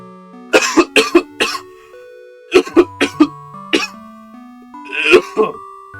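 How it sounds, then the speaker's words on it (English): Several bursts of coughing come in short clusters of two or three harsh coughs, close and loud, separated by brief pauses, over faint background music. "I don't know why I started coughing."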